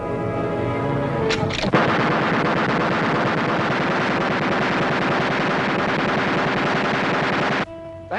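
A runaway machine gun fires continuously in a long, loud, unbroken rattling burst after a short mechanical clank, cutting off abruptly near the end.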